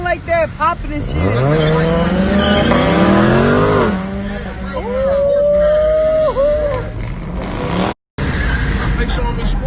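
Cars at a street car meet revving hard with loud rising engine howls and tire-squeal-like tones, close and continuous with a brief dropout near the end, and people talking over it.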